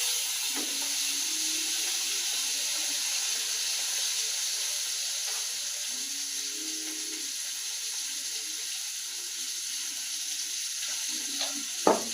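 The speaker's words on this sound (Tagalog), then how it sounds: "pinaligtad ko lang yung mga isda ko na piniprito" Tilapia frying in hot oil in a pan, a steady close hiss and sizzle throughout with a few faint low knocks and a brief clatter at the end.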